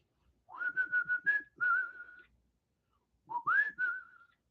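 A person whistles a clear melodic line for a music beat: two short phrases, the first a run of quick repeated notes ending in a held tone, then a pause and a rising, sliding reply, alone with no backing.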